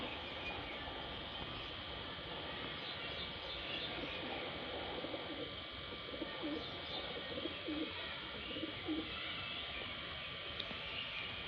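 Pakistani pigeons coo softly at a distance, low repeated calls half-buried in a steady broadband background hiss, with no voices.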